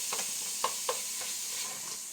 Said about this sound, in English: I'm cooking burger. Put some onions in.